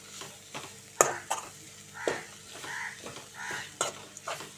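Amaranth leaves frying with chili powder in a pan, a soft sizzle under intermittent scraping and clinks of a spoon against the pan, fairly quiet with occasional sharper knocks.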